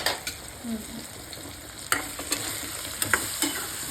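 Turmeric and chili being stirred into guava curry in a pan, with light sizzling under intermittent spoon clicks and scrapes against the metal, close and moderately loud.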